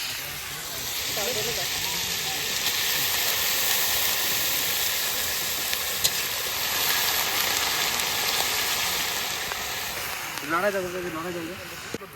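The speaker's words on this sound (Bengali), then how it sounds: "এরপর কুচনো বাঁধাকপি দিয়ে দেবো।" Chopped cabbage hits a hot pan in an outdoor jungle cooking setup, giving a steady, loud hiss and sizzle that runs for several seconds, with brief voices near the start and end.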